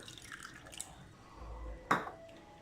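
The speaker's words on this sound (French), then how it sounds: "J'ajoute un petit peu d'huile, de l'eau" Small amounts of oil and water pour into a bowl of homemade mayonnaise-style dressing, giving soft close drips and trickles with a brief splashy burst near the end; the background is quiet otherwise.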